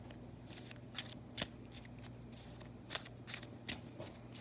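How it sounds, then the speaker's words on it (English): A deck of trading cards is riffled and shuffled by hand at close range: quiet papery flutters broken by several sharp snapping clicks, with no talking. "We're going to give this a nice shuffle."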